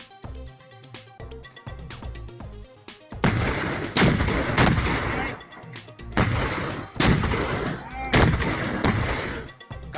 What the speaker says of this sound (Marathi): काश्मीरमधल्या नियंत्रण रेषेवर पाकिस्तानी लष्कराकडून गोळीबार